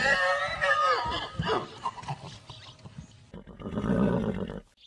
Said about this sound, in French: un magnifique cheval qui soufflait bruyamment par les naseaux